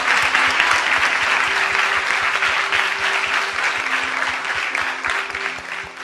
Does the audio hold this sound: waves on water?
no